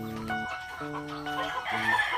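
A rooster on a farm crows in several short, tonal bursts, close and fairly loud, with no talking over it.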